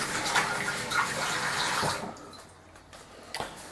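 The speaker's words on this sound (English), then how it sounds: "I'm going to rinse my hands and dry my hands." Water runs from a tap over hands being rinsed, a steady splashing wash for about two seconds that then cuts off, leaving quiet room tone with a faint knock near the end.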